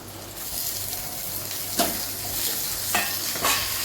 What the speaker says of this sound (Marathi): आणि परतून घेऊया इथं आपला कांदा आणि टमाटा परतून झालाय